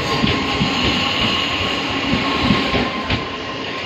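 A passenger train runs steadily near Mayilam, giving a continuous close rumble with faint rhythmic clatter and no voices throughout.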